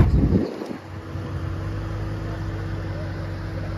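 A 2010 Ford Mustang GT with a 4.6 liter V8 idling nearby, a low, steady rumble with an even hum that settles after a brief louder burst at the start.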